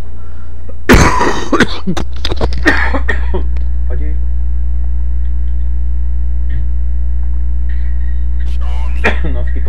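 Harsh, close coughing and throat clearing in a burst of several coughs early on, over a steady electrical hum, with a voice speaking briefly and quieter sounds later.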